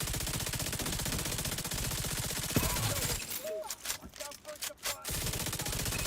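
Rapid, sustained automatic gunfire comes from a high-capacity gun in The Division 2. A dense roar of shots runs for about three seconds, then breaks into short bursts with pauses before resuming.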